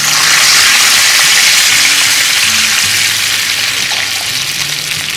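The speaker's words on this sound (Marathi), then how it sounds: "आता मी यामध्ये घालणार पाणी एक पेलाभर पाणी घेतलं आहे" A glass of water pours into a pan of hot tempering for khaman dhokla, a loud, steady rushing gush that fades slightly toward the end.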